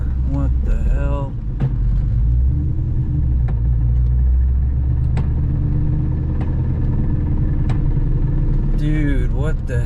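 A Ford Mustang with a damaged transmission idles in neutral under a steady low engine rumble, with sharp metallic clicks ticking at irregular intervals of about a second as it is lightly revved; voices talk near the start and the end.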